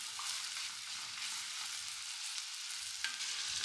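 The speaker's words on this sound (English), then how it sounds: "Sauteing veggies and spices like this really transform the flavor of a dish." Vegetables and spices sauteing in a pot for a Jamaican veggie stew, a steady loud sizzle with a slight stir scrape near the end, no speech.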